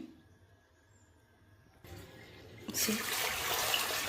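Water pours into a pot of soaked peas and potatoes, starting after a near-silent stretch as a low trickle and then swelling into a steady, loud splashing rush.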